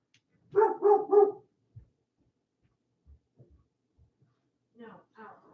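A pet dog barks three times in quick succession close by indoors, followed by a quiet pause with faint thumps and a couple of softer yips near the end.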